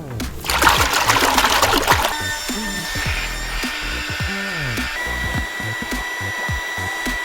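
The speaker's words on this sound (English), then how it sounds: "We're going to use a bucket of water and some soap to find the hole in our air mattress." Soapy water splashes and sloshes in a bucket as it is worked over an air mattress to find a leak, starting as a loud burst of splashing, then settling into quieter trickling and dribbling.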